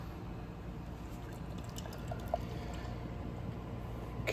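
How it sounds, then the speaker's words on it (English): Leinenkugel Snowdrift Vanilla Porter, a 6% vanilla porter, poured from a can into a glass, giving a steady low liquid rush with faint splashes and trickles throughout, close and continuous. "it's not really aromatic out of the can, so let's get it into the glass"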